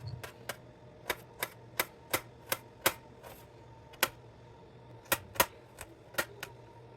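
A knife chops onion on a cutting board in sharp, irregular strikes, about fifteen crisp thuds spread unevenly with short pauses, close and fairly loud with no voices.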